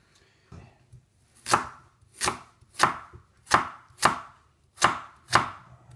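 Seven sharp knife strokes from an Extrema Ratio Psycho15 chop through onions on a board, evenly spaced and close, each a crisp thud with a bright edge, with no voices.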